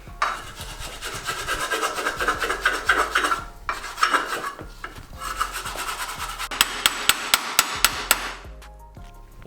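Metal hammering and scraping on the frame of an LS-swapped turbo Mustang in a garage, irregular knocks and rasping strokes followed by a quick run of sharp, evenly spaced hammer blows near the end.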